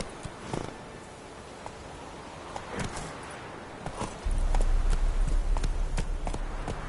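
Roach, a horse in the video game The Witcher 3, moves along with repeated sharp hoof clip-clops. The hooves turn heavier and more continuous over a deeper rumble in the second half.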